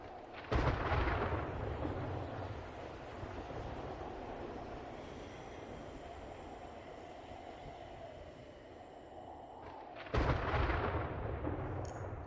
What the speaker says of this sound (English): There's a storm outside.